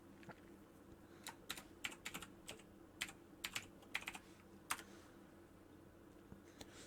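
Bursts of soft clicking keystrokes tap out a password on a computer keyboard, irregular clusters of light, close taps over a quiet room hum with no talking.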